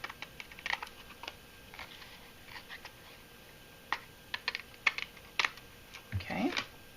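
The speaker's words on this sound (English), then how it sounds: "the easiest way to do that is to flip the card over and cut from the back" Card stock having its edges trimmed from the back of a handmade birthday card, heard as a string of crisp, close, quiet snips and clicks in irregular bursts, with more handling at the end; no voices.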